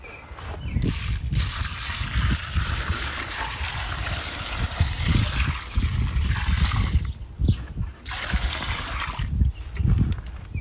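Termite treatment liquid pours in a steady, splashy stream close by, continuing throughout with a few brief dips in flow.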